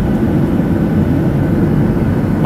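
Steady, loud jet engine roar inside an economy cabin of a JAL airliner in flight, a dense broadband drone with no talk over it.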